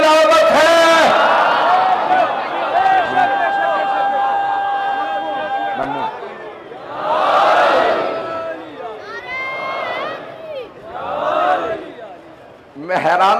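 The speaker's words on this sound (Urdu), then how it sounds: "میں حیران ہوں کہ آپ میرے تبلیغی جملوں پر بھی نعرے لگا رہے ہیں" Crowd at a religious sermon chanting slogans, loud waves of many voices rising and falling in repeated bursts with shouting between.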